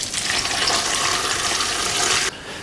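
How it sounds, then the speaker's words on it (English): Water pours steadily into a crock pot full of vegetables, a loud close gush lasting about two seconds before stopping abruptly. "I'm going to pour in some water."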